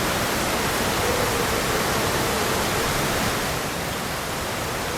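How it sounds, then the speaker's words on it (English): Loud, steady downpour of rain in the Lost Odyssey video game, a dense, unbroken hiss filling the whole scene with no pauses or other sounds. "this rain is super loud"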